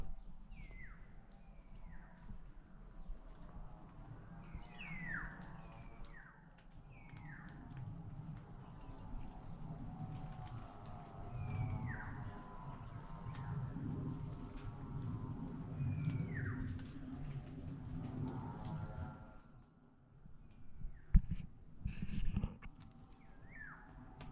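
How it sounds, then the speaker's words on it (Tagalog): Black-naped orioles call among other birds and insects at a farm field: a steady chorus of crickets with repeated short, faint bird calls, distant and soft, with some low rumbling handling noise near the end. "Ayun, yung kilyawan, no."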